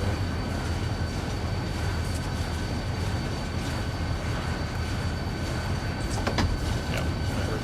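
A freight train in the Run 8 train simulator rumbles continuously with dense low-frequency noise, and a brief series of metallic clanks from slack action between the cars sounds near the end.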